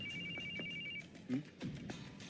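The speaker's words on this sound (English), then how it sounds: "A phone?" A telephone rings with a steady electronic trill in the first second, set against anime background ambience and a few soft thuds.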